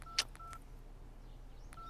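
A few quick telephone keypad tones beep one after another, then a pause before another short beep, faint against quiet room noise.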